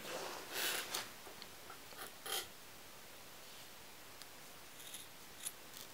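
Scissors cut a leather whip strand with a few close, crisp snips near the start, followed by quiet handling and faint clicks.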